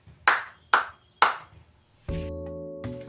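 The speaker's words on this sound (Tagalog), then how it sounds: "bigyan natin sila ng 3 palakpak" A class claps three times in unison, three sharp evenly spaced claps, followed by a bright electronic chime that rings out and sounds again.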